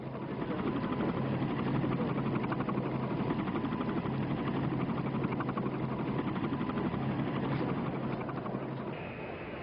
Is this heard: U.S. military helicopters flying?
yes